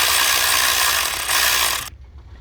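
A ratchet loosens the idler pulley on a Ford F150 with a 4.6L 3V engine, giving a steady, close mechanical clicking whir that stops sharply near the end.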